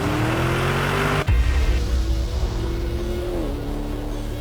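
A Lamborghini Urus drives over rough terrain, its engine droning loud and steady up close, with a sharp jolt partway through and the engine note shifting afterward.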